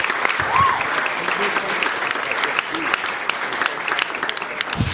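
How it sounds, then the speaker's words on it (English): Audience applause at a magic show in a Chicago lounge, a steady wash of clapping from a seated crowd lasting several seconds, with a performer's voice briefly heard over it. "Give a big round of applause for his help."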